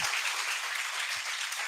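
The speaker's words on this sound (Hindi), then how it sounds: "तालियों के साथ पूनम का स्वागत करिए।" Steady audience applause welcoming a speaker at an interactive session, dense close clapping filling the room without a break.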